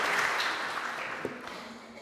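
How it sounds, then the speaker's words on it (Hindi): Audience applause at a poetry mushaira in Wimbledon, a steady mid-distance wash of clapping hands that holds for about two seconds with no voices over it. "इसके लिए एक ज़ोरदार तालियाँ होनी चाहिए।"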